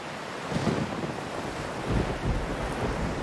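Stormy sea in the Sea Dogs pirate game: steady rushing wind and crashing waves, with heavier surges swelling at intervals, loud and continuous, with no voices.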